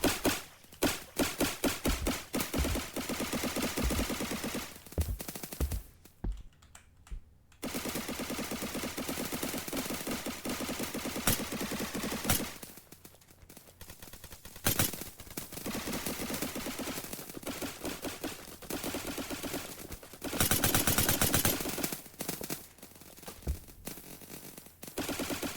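Rapid automatic gunfire in a Roblox shooting game, dense bursts of loud close shots repeating across most of the stretch, with a few short pauses between volleys.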